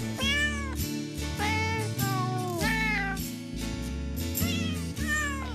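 Several kittens meow repeatedly, loud and close, in high, rising and falling cries, with a steady low background hum beneath them.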